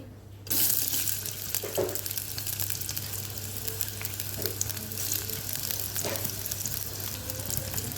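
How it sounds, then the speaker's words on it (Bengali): Chopped onion drops into hot oil for a chicken curry, setting off a sudden loud sizzle that starts after a brief silence and carries on steadily up close, with a few soft stirring scrapes and no speech. "তেল এর মধ্যে দিয়ে দিব পেঁয়াজ কুচি"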